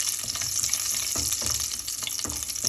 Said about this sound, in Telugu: ఫ్రై చేసుకుందాం.